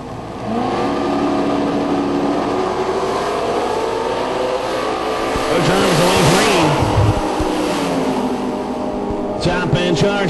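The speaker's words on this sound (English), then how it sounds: "The 72 Nova, 588 cubic inches. The number 18 qualifier going against Scott Lorenzo" A 1972 Nova with a 588 cubic inch engine and a 1970 Chevelle with a 615 cubic inch engine race at a drag racing event, their engines roaring loud and continuous with rising revs and a track announcer talking over them.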